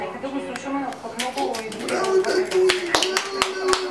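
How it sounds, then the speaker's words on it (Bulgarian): A small child claps hands at home in a run of soft, irregular claps as someone talks encouragingly throughout. "Я помоги на баба, можеш ли да пляскаш?"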